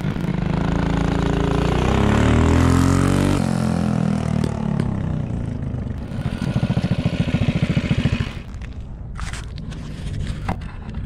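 Predator 212 small engine fitted with a Mikuni VM22 carburetor runs loud and close, a steady throbbing drone with a pitch shift partway through, then rougher uneven firing with faint clatter toward the end.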